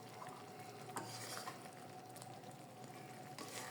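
Butter simmering in a pan as homemade ghee separates, a steady soft sizzle and bubbling with occasional light stirring clinks, close and fairly quiet, with no talking.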